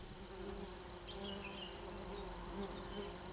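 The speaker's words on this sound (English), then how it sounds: "the air is abuzz with bees" Bees hum steadily across the flowering slopes of the Nilgiri hills in southern India during the Nila Kurunji bloom, a faint continuous insect drone with a thin high whine and outdoor ambience throughout.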